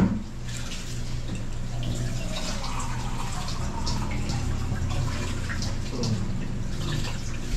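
Water is poured into a cooking pot while preparing a tilapia dish, a steady splashing pour running the whole time at moderate level with faint background noise.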